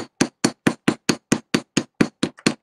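A hammer strikes a metal amulet pendant to texture and work-harden it, delivering about a dozen sharp, evenly spaced metallic taps in a quick, steady rhythm, close and clear with no talk.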